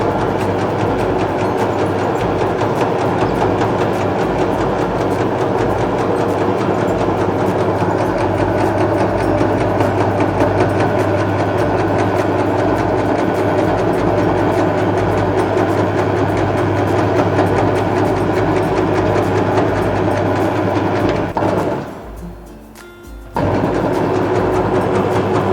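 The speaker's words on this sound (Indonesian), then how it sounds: "Nyalakan powernya. Kita putar tuas hitam ini." A Getra SJ280 meatball forming machine runs with a steady low mechanical drone and rumble, briefly dipping quiet for about a second before resuming its continuous whir, with no talk.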